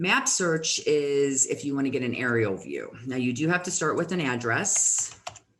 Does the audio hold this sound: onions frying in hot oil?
no